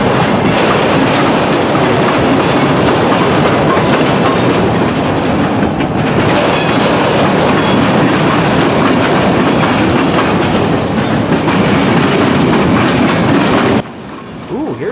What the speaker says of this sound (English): As usual with manifest freight trains, many interesting cars are usually on board trains such as these old Sioux Line grain hoppers